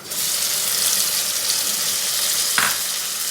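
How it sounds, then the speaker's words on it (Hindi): Golden-fried onions hiss and crackle in a pan as tomatoes and salt go in, a steady, loud sizzle with a brief clatter near the end. "इसके अंदर अब डाल देते हैं टमाटर और नमक,"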